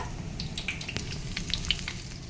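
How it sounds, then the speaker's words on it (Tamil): Mushrooms fry in hot oil in a pan for street-style mushroom fried rice, giving a steady sizzle with small pops and light stirring clicks, close and alone without talk. "இதே மாதிரி நீங்கள் எல்லா மஷ்ரூமையுமே ஃப்ரை பண்ணி எடுத்து வச்சுக்கோங்க"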